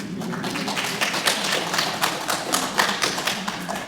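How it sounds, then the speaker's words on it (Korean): A church congregation claps during a Sunday worship service, a dense and steady patter of many hands from start to finish. No voices come through over it. "박수 한번 칠까요?"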